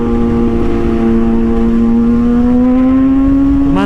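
A Kawasaki ZX6R motorcycle engine revs loud and close in one steady climb, its pitch rising continuously with no break to mark a quickshifted gear change.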